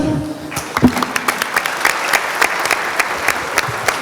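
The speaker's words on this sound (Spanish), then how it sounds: "va a arrancar Edison Borges Rab, le damos un aplauso" Audience applause at an international trade union congress session greets the next speaker, starting with a brief voice and then steady clapping that carries on evenly through the rest of the moment.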